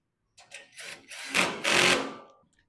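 Leg bolts on a Traeger Woodridge Pro pellet grill are tightened during assembly: a few short mechanical whirring bursts build in loudness, the last two longest and strongest, then trail off.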